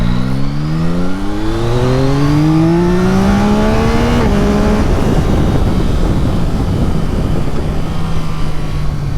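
A Yamaha MT-09 motorcycle accelerates close by, its loud engine note climbing steadily in pitch, briefly dipping, then holding a strong roar. No one speaks.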